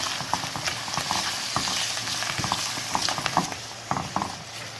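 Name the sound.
sautéing in a pan for steak mushroom sauce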